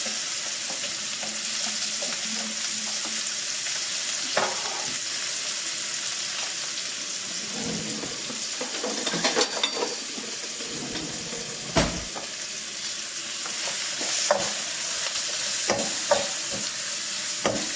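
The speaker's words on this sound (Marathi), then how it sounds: "हे दोन कांदे चिरलेले हे तेलावर टाकायचे" Onions and chilies sizzle and crackle in hot oil, a steady frying hiss with occasional stirring scrapes and pops, close and without talk.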